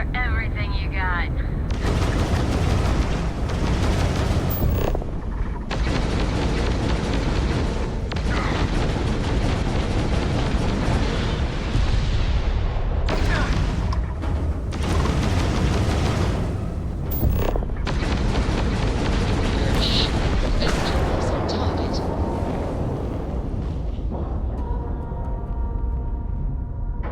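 Starship weapons fire and explosions in Starfield, a dense run of heavy booming blasts and bursts that come in loud, sustained waves with brief gaps between them.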